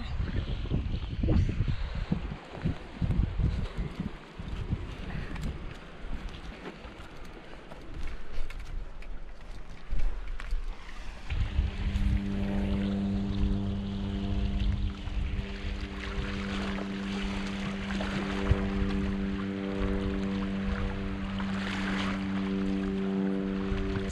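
Steady wind buffets the microphone outdoors near water on the South Coast of New South Wales, with a low rumbling boat engine drone joining partway through and continuing to the end.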